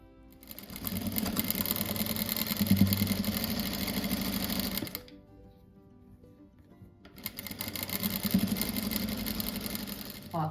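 A sewing machine stitches fabric scraps together for a rug with a fast, steady motor whir close by. It runs for about five seconds, pauses briefly in near quiet, then starts up and stitches again.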